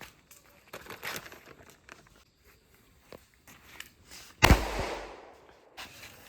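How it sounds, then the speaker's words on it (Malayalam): Firecrackers go off during a family Vishu celebration: a few scattered faint pops, then one sharp loud bang with a decaying crackle, followed by soft distant pops. "ഇവിടെ എല്ലായിടത്തും ഫുള്ള് പടക്കം പൊട്ടിക്കുന്ന സൗണ്ട് കേട്ടോ."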